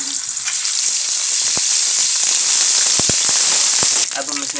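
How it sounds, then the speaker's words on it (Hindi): Ginger garlic paste sizzles loudly in hot ghee, a dense, steady frying hiss close up, dotted with a few sharp pops and crackles, easing slightly near the end. "अब हम इसमें अदरक लहसुन का पेस्ट शामिल कर देंगे।"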